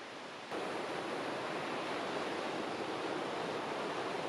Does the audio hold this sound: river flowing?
yes